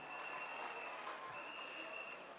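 An audience applauds at the opening address of a G20 social summit in South Africa, a faint, steady patter of clapping that holds evenly throughout.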